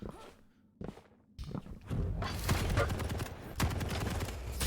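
Rapid machine-gun fire and weapon blasts from a Quake Pro League deathmatch, starting softly with a few thuds and then turning into a loud, dense, continuous barrage of overlapping shots for the last few seconds.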